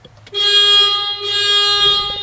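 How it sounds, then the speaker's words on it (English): A thin, nasal tractor horn blares in one long continuous tone, briefly dipping midway before resuming, loud and close with a low engine idle underneath. "It's a moped horn."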